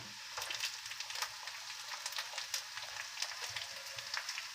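Green chilies sizzling in hot oil with ginger and garlic for a baby corn chilli dish, a dense, steady crackle with scattered sharp pops, close and even, no voices.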